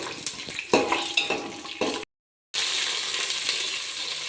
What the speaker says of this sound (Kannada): ಇದು ಶೇಂಗಾ, ಕಡಲೆಬೇಳೆ, ಉದ್ದಿನಬೇಳೆ ಫ್ರೈ ಆಗಿದೆ.